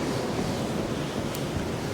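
Steady, loud wind buffets outdoors in cold, exposed conditions, a continuous broadband rush with no pauses and no voices.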